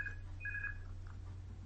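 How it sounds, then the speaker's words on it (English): A telephone rings in short electronic tone bursts, two separate chirps in the first second. The rings sound faint and thin over a steady low hum, with no talking. "I'll delete that ringing, I'm sorry."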